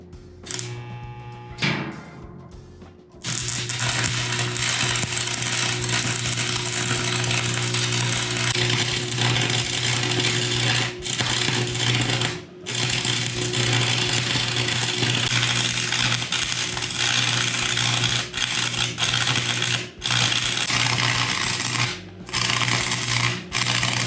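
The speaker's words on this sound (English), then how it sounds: "But I think welding's gonna be the easiest thing." Steady buzzing, crackling hum of a welder fastening a mobile toolbox onto a vehicle, running loud and nearly continuous with a few brief pauses after a short quiet start.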